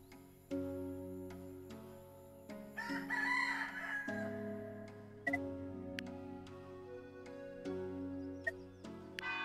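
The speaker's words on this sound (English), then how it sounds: "The chickens are pecking." Chickens from the pixel-art game dotAGE, a repeated rooster-like crowing call with steady ticking and soft game music underneath, no voices.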